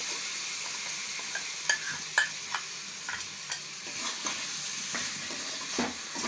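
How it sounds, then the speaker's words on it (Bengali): Chicken korma with cashew paste stirred and fried in a pan, giving a steady soft sizzle broken by repeated scraping spoon strokes and light clinks at an uneven pace, with no talking. "আমি এটাকে এবারে কষিয়ে নেবো আবার এক মিনিট নাড়িয়ে নিয়েছি"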